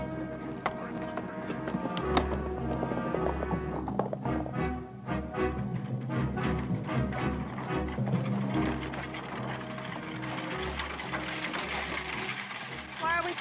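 Horses' hooves clip-clop in a steady, near rhythm through most of the scene, with a harness-like rattle and voices talking over it.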